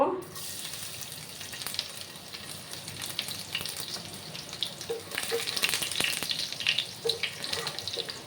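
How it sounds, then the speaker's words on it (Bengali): Steady crackling sizzle of garlic frying in hot mustard oil, close and continuous, with occasional sharper pops and light clinks of a utensil. "রসুনগুলোকে একটু ভাজা ভাজা করে নেব।"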